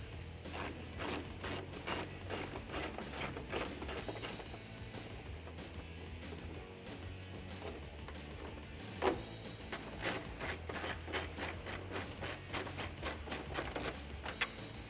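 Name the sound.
ratchet with 8mm socket removing mud flap bolts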